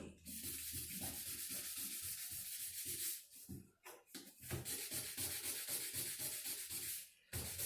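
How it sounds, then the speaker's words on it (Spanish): Steady back-and-forth rasping of sandpaper on a surface, close and rhythmic, with a brief pause partway through before the strokes resume. "Fijarse bien a dónde pasan la lija"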